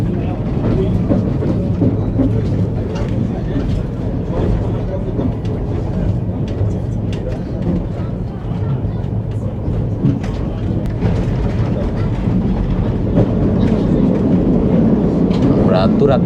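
Chitra Express train crossing the new Jamuna rail bridge, a steady loud rumble and clatter of wheels and carriages running continuously throughout, with faint voices in the background.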